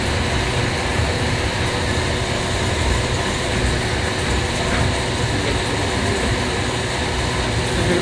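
A Pakistani train arriving at Bahawalpur railway station, a steady loud broadband rumble of rolling wagons and engine noise, close and continuous throughout with no talking.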